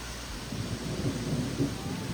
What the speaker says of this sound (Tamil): இடிக்கிறத பார்த்தாலே பயமாக இருக்குதுங்களா?